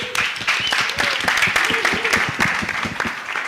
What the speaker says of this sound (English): Let's all welcome Ore and give her a round of applause.